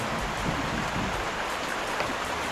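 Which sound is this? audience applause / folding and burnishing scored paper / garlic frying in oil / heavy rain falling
heavy rain falling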